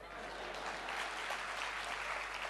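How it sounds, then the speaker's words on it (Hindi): An audience at a mushaira applauds steadily, a dense, even wash of clapping throughout at moderate distance. "अब आपकी तालियां चाहेंगी"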